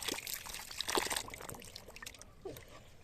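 Mung lentils being rinsed with water in a bowl, giving brief, faint pouring and sloshing sounds that trail off into a quieter trickle.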